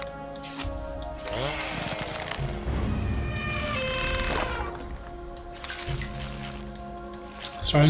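In the Drawn 3: Trail of Shadows video game, an elephant sprays water: a rushing, splashing whoosh swells through the middle over steady game music, then fades back.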